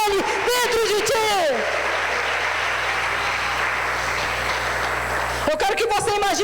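A church congregation applauding during a sermon, a broad, even wash of many hands clapping for about four seconds between stretches of a preacher's loud speech.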